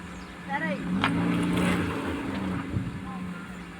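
A car's engine revs and strains while stuck in mud on a rural farm property, a rising and falling motor drone heard at moderate distance with people talking over it.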